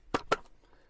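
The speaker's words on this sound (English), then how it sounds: "your VW T25 or Vanagon you hear a knock like this" Worn engine mounts on a VW T25 Vanagon give two quick, close knocks about a fifth of a second apart, then quiet.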